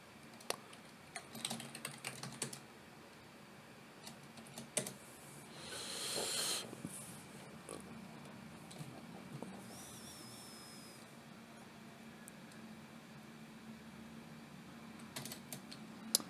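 Terminal commands are typed on a computer keyboard in brief bursts of quiet, close key clicks, with pauses between the runs of keystrokes and a soft background hiss.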